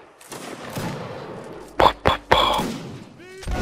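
Cannons fire during a multiplayer Napoleonic line-battle video game event. Three sharp, loud booms land in quick succession over faint background game noise.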